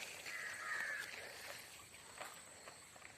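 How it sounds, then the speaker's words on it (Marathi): Faint crows cawing in the distance over farm fields in the evening, a few scattered calls over quiet outdoor background noise. "आणि कावळ्याची भरली शाळा"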